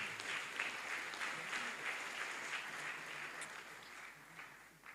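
A church congregation applauds during a sermon, a steady crowd of hand claps sustained across the whole stretch at moderate distance, with no talk over it.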